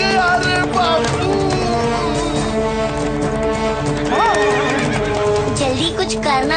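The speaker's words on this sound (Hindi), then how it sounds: "जल्दी कुछ करना होगा, वरना ये घोड़ा सारे बाजार को मैदान बना देगा।" A horse neighs and whinnies loudly over a busy market scene, with hoof clatter and a dense background of music and voices throughout.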